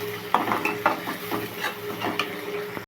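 Onions and tomatoes fry in oil with salt and turmeric, stirred in a pan: a steady close sizzle broken by about five scraping strokes of a spoon, ending abruptly.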